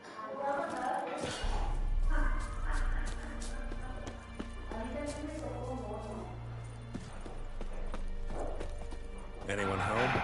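Horse hooves clip-clopping at a steady pace in The Witcher 3, a rhythmic trotting pattern under game music and ambience, with an occasional whinny and voices talking over it.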